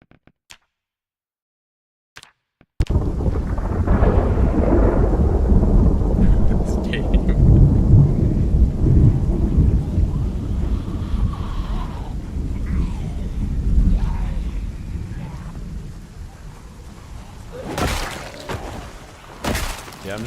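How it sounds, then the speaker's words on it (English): Loud rolling thunder booms and rumbles for many seconds over steady rain during a storm in the zombie survival game Project Zomboid, fading to a softer patter with a few sharper crackles near the end. "I like get the loudest thunder ever after I say the thunder is loud"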